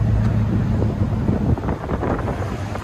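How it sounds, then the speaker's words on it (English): Wind buffets the microphone outdoors beside a Dodge Durango SRT 392, a steady low roaring rumble that swells and dips, with a brief gust surge midway, loud and close throughout. "the wind has picked up again"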